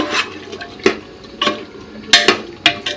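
A spoon stirs vegetables in a pot while pulao is being cooked, making a few sharp scraping clacks in an uneven rhythm, close and fairly loud against a faint simmer.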